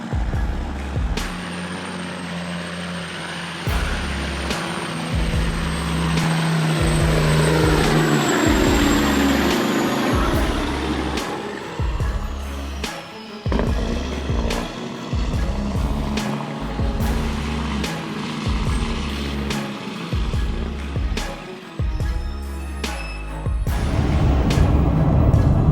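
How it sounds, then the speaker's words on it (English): A loaded logging truck hauling logs rumbles past steadily with a heavy engine drone, loud and continuous, with repeated low thumps and a brief dip midway before the engine noise swells again. "This new footage captures the giant truck loaded with logs on the move"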